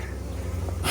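Italian honey bees buzz steadily at an open, large and busy hive, a close continuous drone with a brighter hiss rising near the end.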